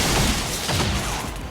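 Advent soldiers in a video game firing at civilians, a dense burst of rapid gunshots and booming blasts, loud and continuous over a short stretch with no voices.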